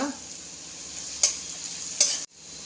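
Sliced onion with salt and curry leaves fries in coconut oil in a pan, giving a steady soft sizzle close by. Two sharp stirring scrapes cut through, then the sound drops out abruptly.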